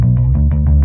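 Heavy, deep pop punk bass line, played in fast, even 16th notes with a clearly pulsing rhythm, loud and upfront.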